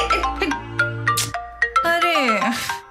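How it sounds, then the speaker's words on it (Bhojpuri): A phone ringtone in a Bhojpuri film scene, bright melodic electronic tones repeating in short bursts across the clip, with voices alongside. "फोन आयल बा"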